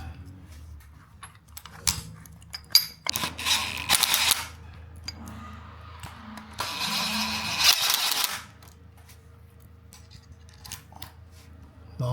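Screws are driven in while fitting a fixed motorcycle security anchor point: two bursts of close, rasping, ratcheting turning, each a second or two long, with quiet handling clicks and taps around them.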